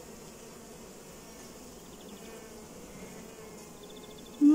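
Bees being placed into a colony, with a queen squeaking among them, give a steady close insect buzz and faint high piping throughout, ending with a short louder bump.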